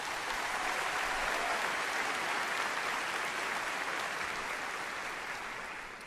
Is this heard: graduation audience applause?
yes